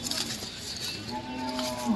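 A bull at the Chalisgaon cattle market lets out a single drawn-out, low moo, fairly faint amid the general market background.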